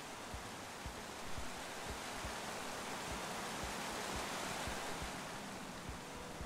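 A waterfall in the video game Minecraft Story Mode roars as a dense, even wash of noise, with soft periodic thumps beneath it and no voices.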